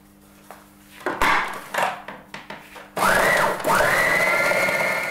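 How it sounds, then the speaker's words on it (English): A food mixer beats sugar and dairy-free spread: a few clattering knocks and bumps first, then the motor starts with a steady whirring drone that rises and holds to the end. "get your food mixer out of storage and mix together your sugar and your dairy-free"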